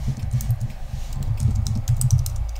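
Steady typing on a computer keyboard while a first line of text is written in Xcode, a continuous patter of close, soft key clicks with no talking.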